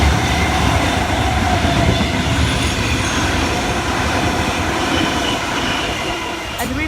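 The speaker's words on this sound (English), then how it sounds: "We have a Tangara passing platform 2." Sydney Tangara electric train passing platform 2 at Thornleigh station. Loud, continuous rumble and rattle of wheels on rails runs throughout, fading slightly toward the end with a brief high screech.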